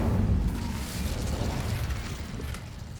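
A fire spell cast in Hogwarts Legacy, a whooshing, crackling burst of flame that roars steadily for about three seconds and slowly tapers off, loud and close with no voices.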